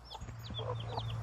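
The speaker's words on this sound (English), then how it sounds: "This chicken just hatched out 3 baby chicks." A farmyard hen clucks softly beside her newly hatched chicks, whose thin high peeps repeat in quick succession close by, with no talking.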